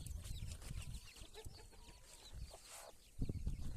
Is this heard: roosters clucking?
yes